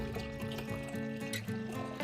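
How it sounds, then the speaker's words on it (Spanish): Cold water being poured into milk for an oat drink, a faint, steady trickle and splash of liquid lasting a couple of seconds with no talk. "Vamos a agregarle el agua."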